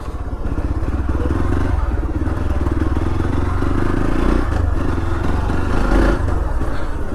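Motorcycle ridden into a morning parking area beside a temple in Kanakapura on the way to Kabbalu, its engine chugging steadily and close throughout, with light clatter and scraping as it rolls in to park.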